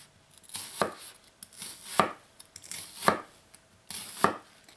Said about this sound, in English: I'm going to chop up this onion.